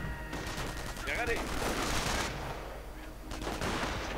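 Bursts of MG42 machine gun fire in a World War II strategy game battle, dense overlapping gunfire and explosions crackling continuously under a busy mix, with voices faintly in the background.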